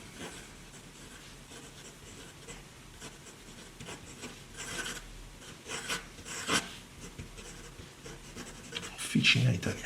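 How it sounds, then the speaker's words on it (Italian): A fountain pen nib scratches steadily across paper while writing in Leonardo Officina Italiana Noce Moscata ink, a close, soft, continuous scritching in uneven strokes that grows louder toward the end. "La penna scorre davvero molto, ma molto bene"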